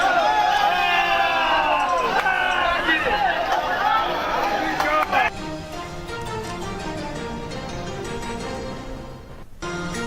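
A crowd stampedes at a fertiliser distribution centre during a shortage, with dense shouting, chatter and jostling that stay loud and continuous, then settle into a heavy, busy murmur.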